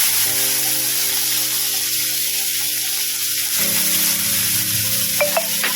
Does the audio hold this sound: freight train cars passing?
no